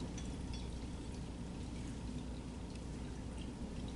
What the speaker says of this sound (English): There's water overflowing over the lid.